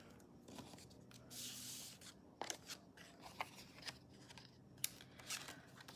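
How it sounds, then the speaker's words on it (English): Scissors snip through paper or cardstock during a stamping craft session, a few quiet crisp cuts scattered among soft rustles and handling noises, close and faint. "And then I need my scissors."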